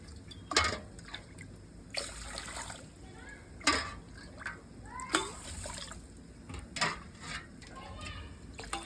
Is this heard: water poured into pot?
yes